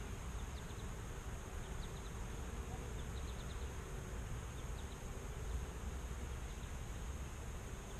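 Honeybees hum in a low, continuous drone around an open hive frame during a beekeeping inspection, soft and steady with no talking.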